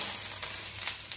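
Pork trotters dropped into a pot of boiling water set off a steady hiss and bubbling rush, with a few sharper splashy bursts, close and continuous.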